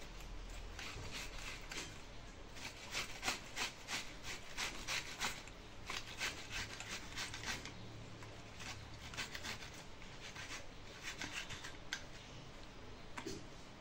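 A green plant piece is grated by hand to draw out its gel for a hair remedy, heard as a steady rhythm of soft, close rasping strokes against a grater over a faint background hiss, with no voices.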